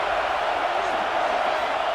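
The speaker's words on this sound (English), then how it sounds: "This crowd bringing the energy and noise early" A sports video game crowd produces a dense, steady roar of cheering and noise, loud and continuous for a couple of seconds.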